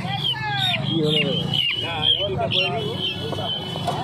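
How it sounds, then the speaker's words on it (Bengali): White quail chicks at a Saturday morning bird market in Uluberia, chirping in quick, bright peeping calls over the busy hum of the market, with someone talking through them. "তো এখানে কিছু সাদা কোয়েল মুরগির বাচ্চা রয়েছে দেখতে পাচ্ছ"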